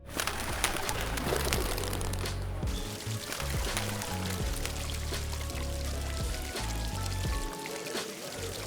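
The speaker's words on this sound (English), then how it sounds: "The fountain is surrounded by 4 stone seahorses, which has continuous flowing drinking water." Water flows continuously from a fountain ringed by four stone seahorses in a square in Taormina, Sicily, a steady splashing rush close by, with pigeons cooing faintly at intervals.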